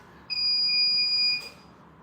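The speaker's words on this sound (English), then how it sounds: "beep means it reached the protection temperature" A mini heat press and mug press machine gives a single steady electronic beep, lasting about a second, when it reaches its protection temperature. It rings clearly over quiet background.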